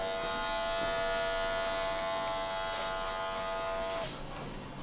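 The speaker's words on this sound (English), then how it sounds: "Take your trimmer again, and you're just going to use the corner." An electric hair trimmer buzzes steadily during a high skin fade haircut, a close, continuous hum with a tonal whine that shifts slightly near the end as the cut changes.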